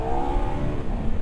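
A KTM 1390 Super Duke R Evo motorcycle accelerating, its engine note a loud continuous drone with tones rising steadily over a brief moment, close and without talking.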